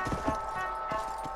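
Horse hooves clip-clop steadily as a rider trots along in Red Dead Redemption: Undead Nightmare, with moderately quiet rhythmic thuds over a faint tonal music bed.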